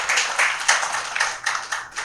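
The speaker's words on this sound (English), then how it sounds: "And I think we owe him, all of us as citizens of this great city, a big round of applause" A civic gathering at a Pakistan-US stamp exhibition breaks into a round of applause, with uneven claps rising and falling steadily and fairly close throughout.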